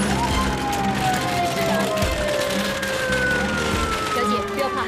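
A wailing ambulance siren with long sweeping tones cries continuously near an emergency rescue scene, loud and steady over a low engine rumble, with voices around it.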